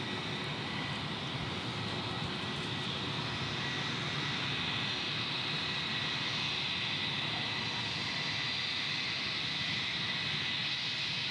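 A Jetstar airliner takes off at Gold Coast Airport in heavy rain, its engine roar a steady broad wash mixed with rain hiss throughout.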